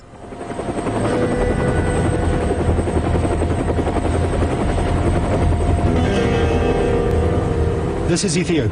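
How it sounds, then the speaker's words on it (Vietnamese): Military helicopter in flight over the harsh Afar region of Ethiopia, its rotor chopping in a loud, steady, close throb throughout, with a brief burst of higher noise near the end. "Nhà khoa học của NASA, tiến sĩ Ashley Davy, đang bay trên một trực thăng quân sự đến khu vực Afar khắc nghiệt"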